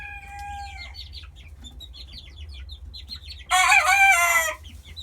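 Backyard chickens on a small Maryland farm, with several roosters and hens, cluck and chirp softly, then one rooster lets out a loud, close crow near the end.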